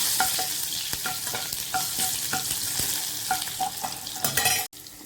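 Crushed garlic sautés in a pan for onion chutney, a close, bright sizzle punctuated by regular scraping and tapping spatula strokes, ending with a sharp cut-off.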